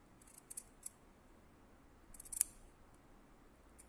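Sharp, close scissor snips cutting fabric while sewing an exposed zipper: a few quick separate cuts early on, then a cluster of louder snips, over a quiet background.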